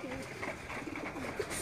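Pigeons coo repeatedly on a rooftop, soft rolling calls at moderate distance over a constant hiss of outdoor background noise.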